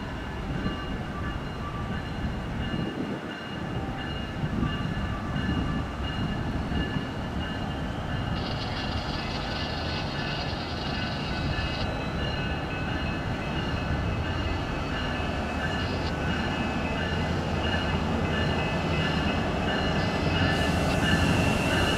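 A train rumbles steadily past nearby in South Florida, with a continuous roar of wheels on rails and occasional thin metallic squeals.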